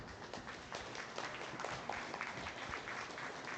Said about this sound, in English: If you would give these young kids a nice round of applause.